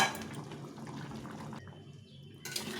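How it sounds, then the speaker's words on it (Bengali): Broth poured into a vegetable and fish curry in a home kitchen: a soft, steady liquid pour and splash that is fairly quiet, briefly stops, then resumes, with no talking. "এই ঝোল দিয়ে দিলাম"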